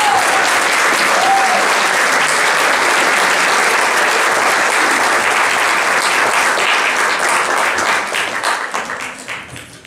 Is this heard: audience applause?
yes